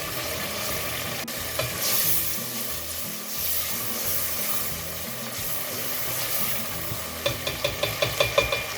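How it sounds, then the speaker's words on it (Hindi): Masala stir-fried in a pan for a Pakistani chickpea curry gives a steady loud sizzle throughout, with a spoon scraping and stirring rhythmically and a run of sharp scrapes near the end. "मसाले को खूब अच्छी तरीके से हमें भूनना है।"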